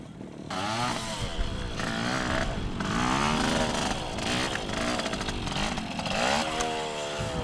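A small Yamaha TY80 trials motorcycle ridden across a field, its little two-stroke engine revving up and down repeatedly in close, buzzing bursts with no talk.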